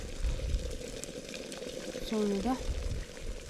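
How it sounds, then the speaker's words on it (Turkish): A kettle of tea water bubbles and hisses steadily at close range at a campsite on a rainy day, while a person speaks briefly over it. "çay kaynıyor bile arkadaşlar"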